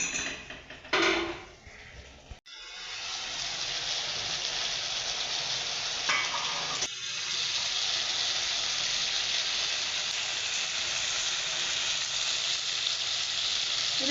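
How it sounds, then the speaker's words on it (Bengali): Onions frying in a pan while being stirred, a loud continuous sizzle broken by a few scraping stirs and brief dips, close up, with no talking. "একটু নেড়ে চেড়ে দিচ্ছি পেঁয়াজ দিয়ে"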